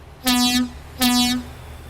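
Two bright blasts of a truck air horn in American Truck Simulator, each about half a second long with a short gap between, loud and clear over faint background hum.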